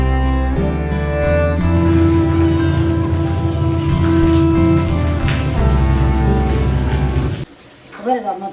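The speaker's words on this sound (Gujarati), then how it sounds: "વરસાદ ચાલુ છે" Steady wind-driven monsoon rain falling on a millet field in Gujarat, a dense constant hiss with a low hum underneath, near and fairly loud; a voice speaks briefly at the end.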